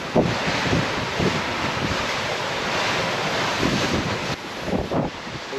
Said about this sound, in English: The waves are quite steep.